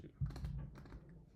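Quick keyboard typing sounds as a rapid, faint clatter of keystrokes close to the microphone while code is being written, with soft talk mixed in.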